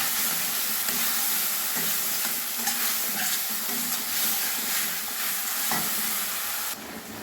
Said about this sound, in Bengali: এবার মশলাগুলো আমি ভালোভাবে একটু কষে নেব